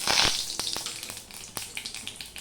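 A dried red chilli and a pinch of nigella seeds frying in hot oil, with a loud initial sizzle burst followed by repeated small crackles and pops that gradually settle.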